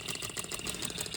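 An OKMO B02 hit-and-miss stationary engine runs at a raised speed, its quick, even firing and mechanical clatter close and steady for a brief stretch with no voices.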